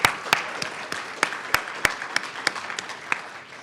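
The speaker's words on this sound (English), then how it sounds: "Let's give them a round of applause." Steady applause from an audience at a Teacher of the Year ceremony, with scattered louder claps standing out over a dense bed of clapping that continues throughout.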